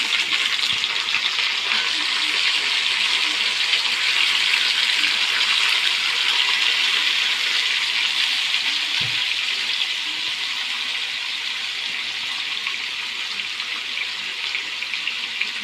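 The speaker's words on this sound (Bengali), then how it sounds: "এখন মাছটা দিলাম।" Rohu fish pieces go into a pan of frying onion curry base, setting off a steady, loud broadband sizzle that holds evenly throughout with a brief low thump midway.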